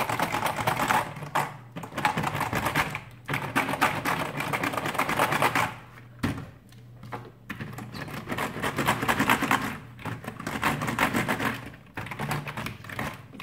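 Keys on a computer keyboard clatter in dense, rapid bursts as an OPULA KCL-3022 dusting gel cleaner is pressed down onto them, a steady close-up clicking with brief pauses between pushes.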